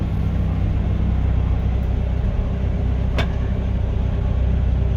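A CAT telehandler reversing, its engine giving a loud, steady, low droning rumble from inside the cab that stays constant throughout, with one brief sharp click partway through.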